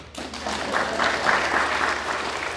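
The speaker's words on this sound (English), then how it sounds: "Applause" Audience applause at a book talk event, a dense steady wash of many hands clapping that swells quickly and holds loud for a couple of seconds.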